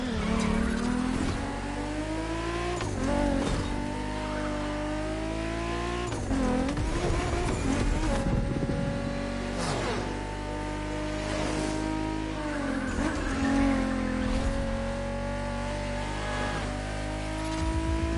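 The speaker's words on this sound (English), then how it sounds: "And Kai got you your next killer partner, a 1970 Dodge Challenger" A loud 1970 Dodge Challenger muscle-car engine roars continuously in the video game The Crew Motorfest, revving up and down with gear-shift dips and occasional tire squeals, close and without any talking.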